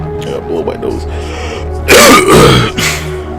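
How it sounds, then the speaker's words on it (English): A person blows their nose in a sharp, loud burst after some quiet speech, followed by a second shorter blast, close to the microphone. "Blow my nose."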